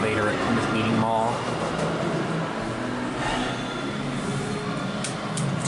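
A Dover hydraulic elevator at Plymouth Meeting Mall carries riders with a steady mechanical hum and rumble, and people talk over it throughout.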